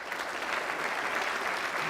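Audience applause in a hall, a steady, dense wash of many hands clapping at moderate volume with no breaks.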